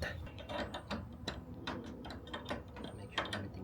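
Small metal clicks and ticks as a bolt, lock washer and nut are fitted onto a light mount on a Toyota Tacoma TRD Pro, quiet and close in a rapid irregular series.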